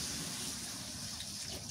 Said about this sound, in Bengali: কচুটা ভালো করে কষান করলাম, পানি দিয়ে দিই।